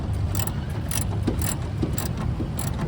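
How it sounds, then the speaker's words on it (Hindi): A ratchet wrench clicking in quick, rhythmic bursts while radiator parts are removed from a Toyota KE20, close by and moderately faint, with light metallic rattles of tools. "बट रैचेट के साउंड जो है ना"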